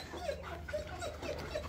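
A dog whimpers softly in a few brief, high whines against quiet background noise.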